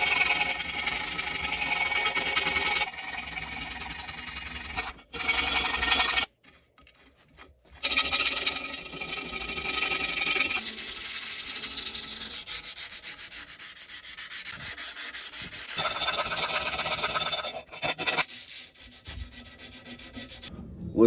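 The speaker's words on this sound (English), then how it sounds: "So I'm going to get my file. I'm going to start filing." A metal file is worked over the sole of a Record No 7 hand plane. It makes loud, continuous rasping strokes that run for several seconds at a time, with a couple of short pauses, and nobody speaks.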